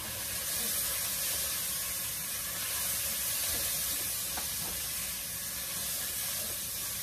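A steady, loud hiss of seasoned vegetables sizzling in oil in a pan while being stirred, continuous with no pauses and no talking.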